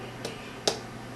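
Two brief, dull raps land on an unripe watermelon, a faint tap followed by a sharper, slightly louder one, both short and dry with little resonance.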